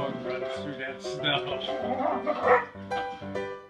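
Dogs barking and yipping from a television set, short bursts mixed with a steady music-like background and some talk across the span.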